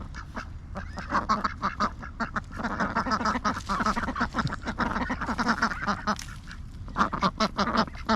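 Ducks quack repeatedly and close by outdoors, a chattering flock calling in overlapping bursts over a steady low background rumble.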